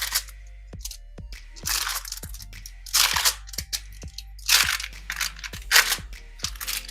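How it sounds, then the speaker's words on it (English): A glass presses biscuit dough flat on aluminium foil, giving sharp crinkles, taps and crackles that come in irregular bursts, close by and fairly loud, with no voices. "I'm just going to use a glass and kind of flatten these out."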